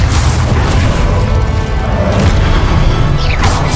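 A loud, dense roar of fire from the Incendio spell in Hogwarts Legacy, with booming, crackling impacts and a brief whooshing flare near the end.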